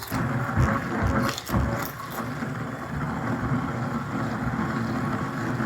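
An Amazon Basics immersion hand blender running on its low setting through a lumpy mixture, making a steady, rumbling motorized whir with some uneven churning and no talking.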